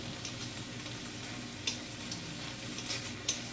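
BBQ chicken cooks in a pan with a soft, low sizzle, and two sharper clatters come as the pieces are flipped over, with no voices present.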